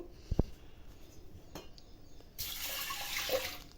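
Water runs into a pot for cooking dal, with faint clinks at first. A steady pouring or running-water sound starts partway through and continues to the end at a quiet, close level.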